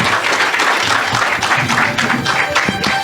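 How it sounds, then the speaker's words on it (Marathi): An audience at an anniversary award ceremony breaks into loud, sustained applause, dense clapping filling the whole stretch with a few sharper individual claps standing out near the end. "अवधूतसाठी टाळ्याचा आवाज जोरदार झाला पाहिजे."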